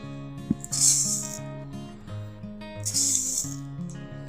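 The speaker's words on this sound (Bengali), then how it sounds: "এখন এই শুকনো উপকরণগুলো একটু মিশিয়ে নেব।" Dry donut dough ingredients (flour with yeast, a pinch of salt and sugar) mixed in a bowl, heard as two short bursts of brisk scraping and rustling over steady background music.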